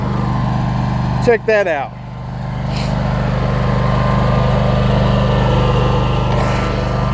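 A Toro lawn mower fitted with a striping kit runs with a steady, loud engine drone throughout, and a brief voice cuts in near the start over the constant mowing noise.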